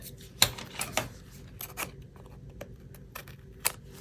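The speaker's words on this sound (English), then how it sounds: "And then I'm going to take my scissors," Close, quiet snips and rustling of scissors working through paper, with a few sharper clicks of the blades amid soft handling sounds.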